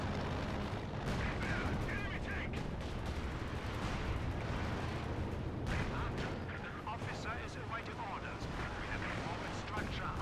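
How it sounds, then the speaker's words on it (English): Brumbar and Panther tanks open fire in Company of Heroes 2 during a 4v4 battle on Port of Hamburg. Dense, continuous artillery booms and gunfire rumble through the whole stretch, with bursts of shots stacking into a loud battlefield din. "Brumbar and Panther about to open fire"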